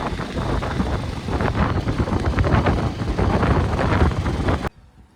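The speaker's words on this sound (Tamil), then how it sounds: "காற்று ஒரு அடிக்குதுங்க, வீடியோ கொஞ்சம் வாக்கிங்காக இருக்கும்." Steady, broadband wind buffeting a microphone outdoors beside a Jawa 42 motorcycle during a mileage test, loud and continuous for most of the clip before cutting off abruptly near the end.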